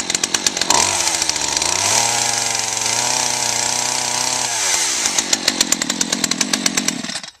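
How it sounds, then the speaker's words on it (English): A chainsaw fitted with a chain-sharpening tool revs up to a loud, sustained whine for several seconds, then drops back to a rapid, sputtering idle. "run your chainsaw for about 3 to 5 seconds"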